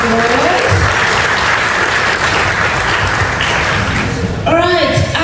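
Talk show studio audience gives a loud, sustained round of applause, with a voice speaking briefly at the start and again as the clapping fades near the end.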